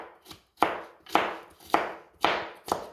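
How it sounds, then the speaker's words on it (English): Knife chopping fresh okra on a cutting board for frying, about six crisp, evenly spaced cuts in a steady rhythm, close and clear with no talking. "I'm going to show you how I cut my okra up for frying."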